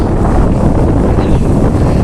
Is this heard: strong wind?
yes